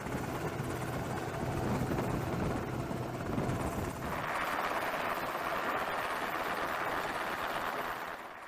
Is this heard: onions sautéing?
no